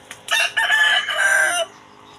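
A single loud, drawn-out crow from a nearby chicken, lasting over a second, with little else around it.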